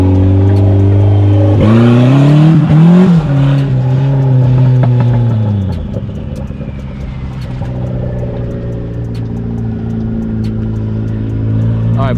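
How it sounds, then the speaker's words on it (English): Zach's new turbo Mazda Miata revs hard and accelerates, engine pitch climbing and swooping over the first six seconds, then settling into a steadier, quieter drone with some clatter. "Look at Zach and his new Miata ripping it already."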